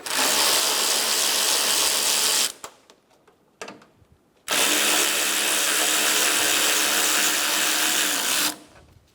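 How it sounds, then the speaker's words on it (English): A power driver with a 7mm socket spins out headlight screws on a 2012-2020 Chevrolet Sonic in two long, steady whirring runs, close and loud, with a short clicky pause between. "Remove the two screws on the top."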